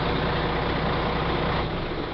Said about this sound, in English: So I'm going to go up and shut the truck off.